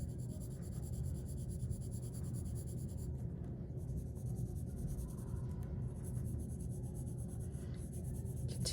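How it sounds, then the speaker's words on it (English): Graphite pencil shading on paper is blended with a fingertip, giving a soft, continuous dry rubbing and brushing that stays quiet and close throughout, with no voices. "You can also just blend it using your finger like this, but then you'll get graphite on your finger."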